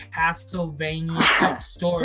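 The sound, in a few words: sneeze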